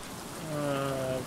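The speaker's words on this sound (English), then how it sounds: "And it's raining." Rain in the survival game Stranded Deep, a steady hiss of falling rain across the short stretch, with a brief voiced tone rising over it near the middle.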